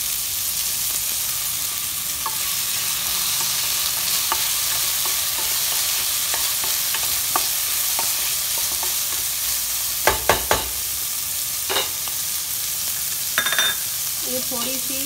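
Finely chopped carrots stir-frying in a pan for vegetable pulao: a continuous close sizzle with scattered spatula scrapes and a few sharper clinks near the end, no one talking.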